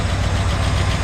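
The engine of a 1984 Ford F-150 with an HEI ignition conversion idles close by, a steady low rumble with no voices over it.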